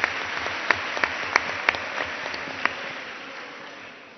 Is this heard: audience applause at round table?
yes